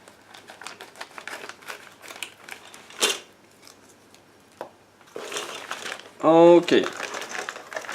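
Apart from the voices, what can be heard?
cutting through plastic model kit parts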